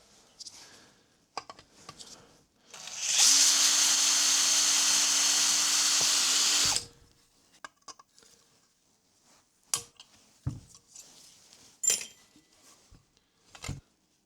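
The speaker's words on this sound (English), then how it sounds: "So let's drill out these spots." A power drill bores out rivets on a VW Golf Mk2 shifter, a loud steady whirring burst lasting a few seconds that stops abruptly, followed by scattered metallic clinks and taps of parts being handled.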